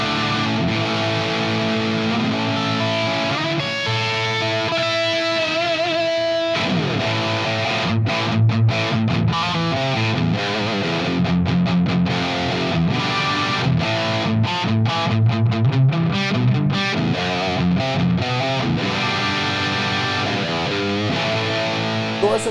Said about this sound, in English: let's play the blue channel, and again I just have the noise gate on and just a hair bit of delay here